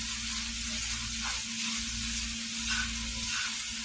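Onions sizzle steadily in a hot pan, a continuous close frying hiss with faint crackles, cooked only until starting to soften before going into a crock pot.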